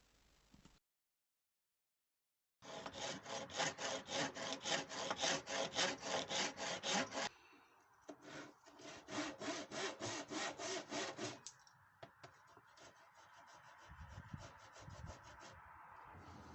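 A handsaw cuts an oak tenon shoulder for a medieval table, giving a long run of loud, rhythmic back-and-forth strokes close up after a brief silence, then a pause and more uneven strokes and scraping.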